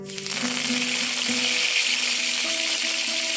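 Garlic and curry leaves frying in a pan, a steady close sizzle with soft crackles throughout, alone without talk.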